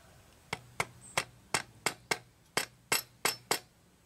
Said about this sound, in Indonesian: kita pukul pelan-pelan sedikit-sedikit aja bagian sini, tapi menggunakan palu plastik ya teman-teman